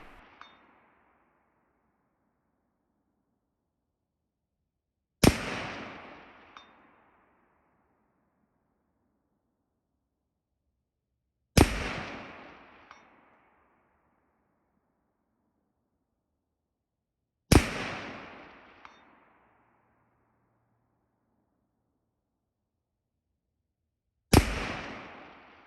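Four distant rifle shots from an M&P10 ring off a steel target at 360 yards, each a sharp crack followed by a decaying metallic ring and echo, spaced about six seconds apart with quiet between.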